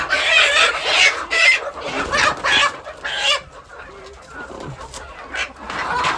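Desi native village chickens on a farm cluck and squawk in repeated bursts, close and loud, with brief quieter gaps between the calls.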